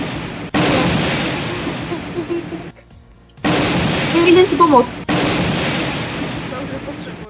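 Gunfire in the Roblox game Moon Tycoon: dense, loud bursts of shooting in long stretches with a short gap, while players talk over it.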